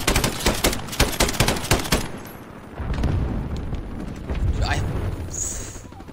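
Rapid bursts of automatic gunfire crack close and loud in a Call of Duty Warzone match, followed by duller, more distant shooting and rumbling explosions.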